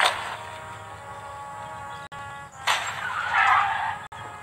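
A car comes to a sudden, skidding stop with a harsh burst at the start, and then a bright crash of breaking car glass follows a couple of seconds later, loud against a steady background hum with no speech.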